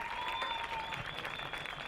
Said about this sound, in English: Let's all give every veteran a thunderous round of applause